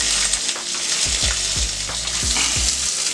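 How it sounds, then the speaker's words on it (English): Bacon frying on a flat top griddle set on a home stove, giving a loud, steady hissing sizzle close up, with several low scraping bumps from a spatula through the middle. "we're gonna let the bacon keep cooking here before we put the burgers on"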